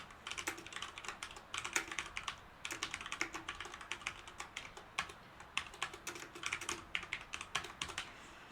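Dense, steady typing on a computer keyboard while test code is written, with quick bursts of key clicks and brief pauses, close and fairly quiet, no talking.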